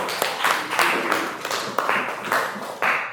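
Students in a classroom clap for group 4, a handful of distinct, fairly loud claps falling in a loose, evenly spaced rhythm.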